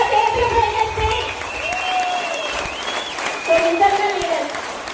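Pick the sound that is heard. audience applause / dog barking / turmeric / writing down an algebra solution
audience applause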